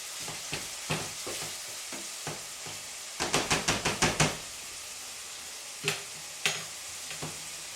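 Ground meat for chili sizzles steadily in a pan while a spatula scrapes and flips it, a burst of quick knocking turns around the middle and a few later isolated clacks, with no talking.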